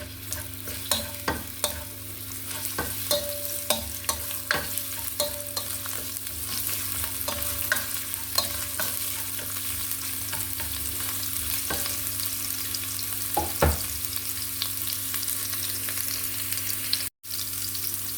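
Ginger sautéing in a pan at the start of a chicken meatball soup with miswa, a steady close sizzle over a low hum, with frequent light clicks and scrapes of stirring throughout.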